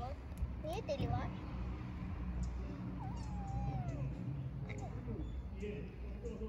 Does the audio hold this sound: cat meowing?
yes